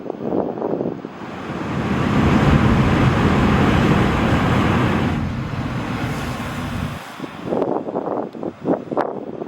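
Ocean surf washing against a limestone island shore, a steady broad roar that swells and holds loud through the middle, then drops away to lighter, broken splashes near the end, with wind buffeting the microphone.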